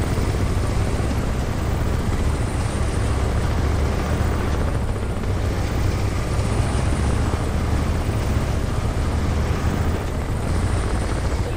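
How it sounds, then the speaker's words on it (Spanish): A helicopter in the video game Crysis Remastered approaches with a loud, constant rotor and engine roar that holds steady and fills the whole stretch, with no talk. "Me viene un helicóptero."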